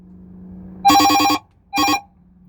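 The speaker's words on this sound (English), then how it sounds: "Getting a phone call." A telephone bell rings in two loud, close bursts of rapid metallic trilling with a short pause between them, over a quiet low hum.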